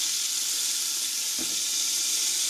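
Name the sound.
beef pieces browning in a pan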